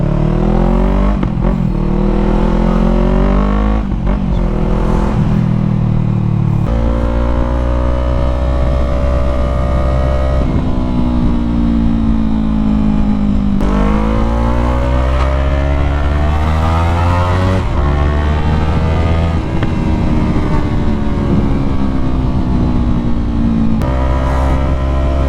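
A Yamaha MT-03 motorcycle engine, freshly serviced with an oil change, revs repeatedly in loud, close bursts that climb and fall in pitch over a steady idle, with no talking.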